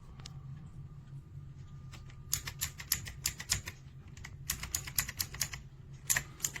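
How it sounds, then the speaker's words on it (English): Typing on a KOORUI 104-key mechanical keyboard with blue switches, sharp clicky keystrokes close up, sparse at first and then coming in quick uneven bursts. "These are the standard blue switches that come with this keyboard, and as you can hear, they're very clicky."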